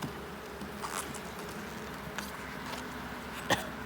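Honey bees buzz faintly around a hive during an inspection, a soft steady drone with occasional louder passes of single bees and a small knock near the end.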